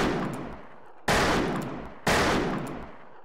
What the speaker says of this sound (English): Because I'm trying to shoot people